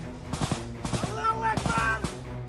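Machine guns fire on a front line in the Ukraine–Russia war, with repeated bursts of sharp rattling shots at mid distance, mixed with faint voices.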